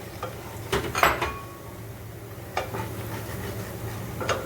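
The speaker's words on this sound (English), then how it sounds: "So now we're going to add the coriander seeds." Coriander seeds tumble into a pan of dark reddish-brown spices, giving a few clattering pours and scrapes around the one-second mark and again later, over a low steady kitchen background.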